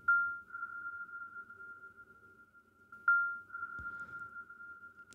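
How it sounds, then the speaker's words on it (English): A steady pure sine wave tone of about 1.5 kilohertz holds at one pitch, faint and clean, with two brief clicks breaking in partway through. "That is like a pure sine wave."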